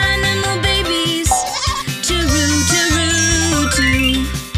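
A sheep's bleat set over a cheerful children's song about farm animals and their young, with bouncy music and sung voices running throughout.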